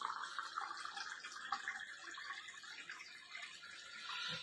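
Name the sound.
water filtered by Vestige Sharp purifier poured into cup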